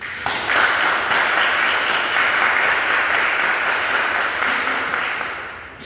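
A church congregation applauding after the Gospel reading, an even, sustained wash of clapping that fills the room and tapers slightly at the close.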